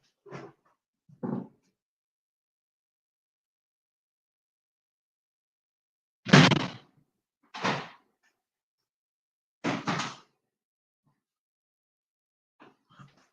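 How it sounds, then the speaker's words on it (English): A door is closed indoors with a few separate thuds and scrapes spread out over several seconds, close and fairly loud amid silence. "Let me close this door."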